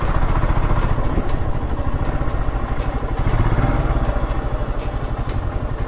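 A Scram motorcycle climbs a steep road up to a fort in Jaipur, its engine chugging close and loud with a pulsing, uneven beat.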